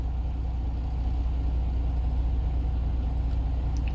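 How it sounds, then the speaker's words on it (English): A steady low truck engine rumble idles continuously at moderate volume, even and unbroken with no voices. "went down to the normal idling"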